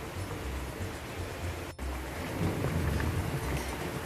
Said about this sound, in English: Alright, the storm's still happening.